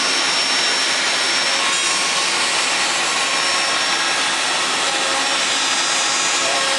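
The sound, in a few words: Mafell router cutting wood in a jig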